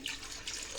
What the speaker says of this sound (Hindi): अब इसमें पानी डालूंगी।